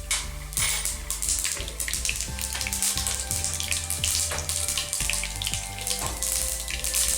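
Mustard seeds sizzling in coconut oil in a small pan, a steady hissing fry with scattered popping crackles throughout, close and even in level.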